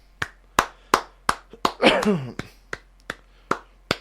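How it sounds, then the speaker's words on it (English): A dozen or so sharp, evenly spaced hand claps ring out close by, with a brief burst of throat noise or laughter in the middle. "We'll give you a few claps for that."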